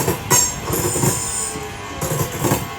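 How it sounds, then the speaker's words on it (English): Class 323 electric multiple unit pulling out of Barnt Green station on the Cross-City line, a nearby rumble with wheel squeal and rhythmic clatter over the rails, loud and steady throughout. "323 205 is going to be leading the Four Oaks train."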